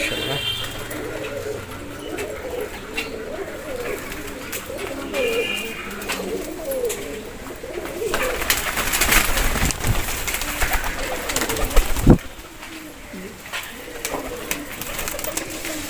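Pigeons coo in low, repeated rolling calls against a busy background, with people talking and handling noises throughout and a sharp knock partway through.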